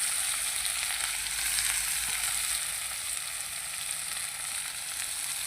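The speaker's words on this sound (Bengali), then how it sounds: "তো আমি এবার পেঁয়াজগুলো দিয়ে দেবো।" Onions fry in hot oil seasoned with panch phoron spices, giving a steady, close sizzle that holds evenly throughout with no voices.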